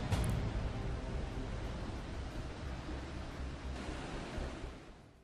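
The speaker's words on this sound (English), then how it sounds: "A ship navigating through rough seas and turbulent waters encounters waves that crash over the deck" A rough, stormy sea surges and washes across the deck of a cargo ship, forming a steady roar of broadband water noise that fades slightly toward the end.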